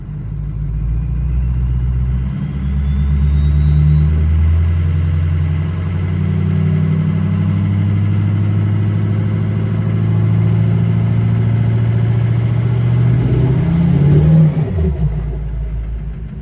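A Ford 6.0 Powerstroke diesel truck revs hard with a deep, steady engine roar while its turbos spool up, giving a thin whine that climbs continuously in pitch for about fourteen seconds before the engine backs off.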